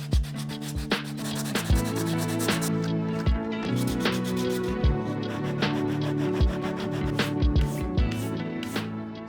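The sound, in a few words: sanding the edge of plastic shielding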